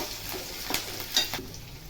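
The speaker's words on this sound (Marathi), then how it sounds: "हिरव्या मिरच्या, कढीपत्ता, हे चांगलं हलवून घ्या।" Green chillies, garlic and curry leaves frying in oil for an okra dish, a soft steady sizzle broken by a few scraping stirs of a spoon in the pan, close and wordless.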